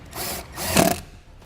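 A self-tapping screw is driven into the metal chassis of a vehicle with a power driver, a brief whirring and grinding burst of about a second, fairly quiet.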